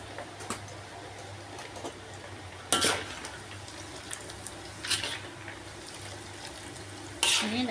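Anchovies (ikan bilis) fry in hot oil for sambal, a soft steady sizzle running underneath, broken by a few sharp scrapes and clinks of the stirring utensil against the pan.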